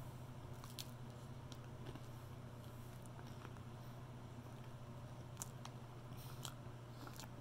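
Crisp, crunchy chewing of a crispy rice snack close to the mic, sharp crackles scattered over a steady low hum, with no talking.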